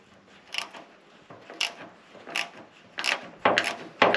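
Screws being tightened into the sheet-metal body of a Rover car during preparation for paint, heard as short ratcheting, creaking mechanical bursts that repeat irregularly and grow louder toward the end.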